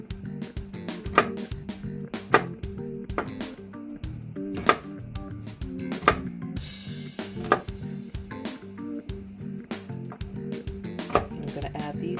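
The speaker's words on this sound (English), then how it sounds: "I'm just going to go ahead and cut them coarsely" Vegetables chopped coarsely with a knife on a board for cast iron roasted chicken: a string of sharp, fairly close knife strikes in an uneven rhythm, with a brief rustle partway through.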